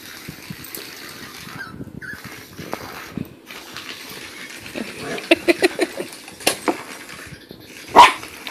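A dog barks in a quick burst of several sharp yelps, followed by one louder bark, amid quiet rustling background noise.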